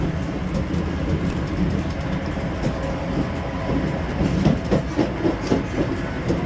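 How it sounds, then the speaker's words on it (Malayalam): A passenger train pulls out of Tashkent railway station in Uzbekistan, with a steady low rumble and a rhythmic clickety-clack of wheels on rails that grows slightly more pronounced toward the end. "നമ്മുടെ താഷ്കണ്ട് റെയിൽവേ സ്റ്റേഷനിൽ നിന്നും ഞങ്ങളുടെ ട്രെയിൻ പുറപ്പെട്ടു."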